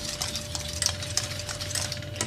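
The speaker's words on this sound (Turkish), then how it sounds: "Devamlı karıştırın ki dibine yapışmasın." A spoon stirs chocolate pudding in a pot on the stove, giving a steady soft scraping and swishing with faint repeated clinks and a constant low hum in the background, no talk.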